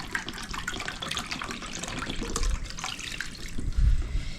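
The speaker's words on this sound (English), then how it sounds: "I've already added 1 cup of coconut water, and now I got to get a 2nd cup in." Coconut water pours into pancake batter for protein pancakes, a steady liquid splashing and trickling that runs continuously, close and moderately loud.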